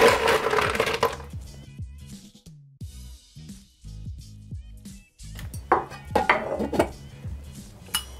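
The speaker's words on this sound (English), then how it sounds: "So we're gonna put some ice in here and we're gonna stir this for about 20 to 30 seconds." Ice clinks and rattles against a mixing glass as a cocktail is stirred, with sharp, irregular close taps and clatter and no talking.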